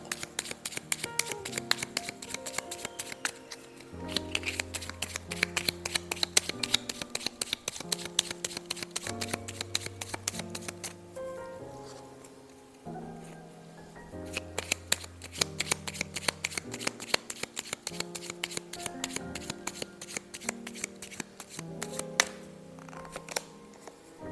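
A deck of Lenormand cards is shuffled over and over in repeated crisp riffling bursts, close and fairly loud, with short gaps between them.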